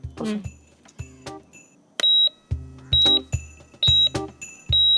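Electronic device sounding a series of short, loud, evenly repeated beeps in close succession, with bursts of rustling and handling noise between them.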